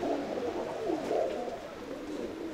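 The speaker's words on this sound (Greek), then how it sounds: "Και όμορφα περιστέρια." Pigeons with rain-soaked feathers coo in low, continuous throaty murmurs, fairly close and steady, with no talking over them.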